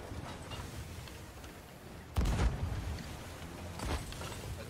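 Two deep ship cannon booms in Sea of Thieves sound a couple of seconds apart, each heavy and resonant above a quiet rumbling background.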